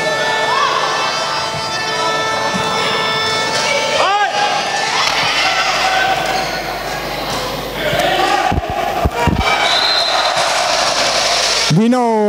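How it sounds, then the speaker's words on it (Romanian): A loud arena crowd at a women's volleyball match between Alba Blaj and Știința Bacău roars and applauds steadily, with thuds, shouts and piercing horn or whistle bursts, under a commentator's voice. "Din nou aplauze pentru Ana Antonevici"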